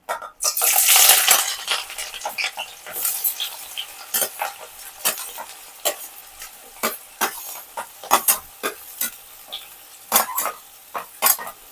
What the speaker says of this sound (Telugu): నూనె అయితే వేడెక్కేసిందండి. ఇప్పుడు ఉల్లిపాయలు వేసేసుకుందాం.